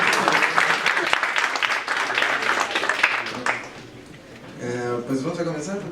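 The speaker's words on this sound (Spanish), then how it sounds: "recibámoslo con una aplauso" An audience at a physics faculty event applauds to welcome a moderator, a loud burst of many hands clapping that fades toward the end as a voice begins speaking.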